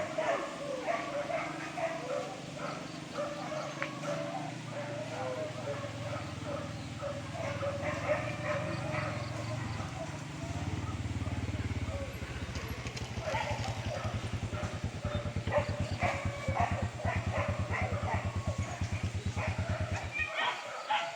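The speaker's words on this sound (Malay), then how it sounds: "Oh, no. Suara anjing bawah tu." A dog barks repeatedly in short bursts during a wild boar hunt, with scattered talking and background noise, and a low rumbling hum through the middle.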